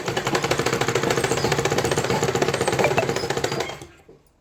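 An electric sewing machine stitching a lined blouse, a loud rapid mechanical chatter at a steady rhythm that runs close and continuous before winding down to a stop near the end.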